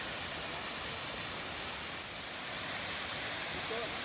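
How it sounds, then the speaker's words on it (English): Bojana waterfall up in the Vitosha Mountains, a steady broadband rush of falling water, continuous and even, heard from nearby with no talk over it. "We made it to the waterfall. It's lovely and cool and high."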